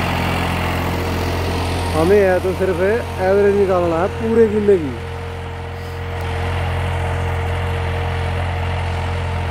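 A New Holland 3600-2 all-rounder plus diesel tractor idles with a steady, low engine drone that runs throughout, while someone speaks over it for a few seconds partway through.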